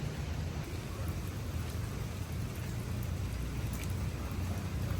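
Steady, dense rainfall pattering on a surface, a constant wash of sound with low rumble underneath and no voices.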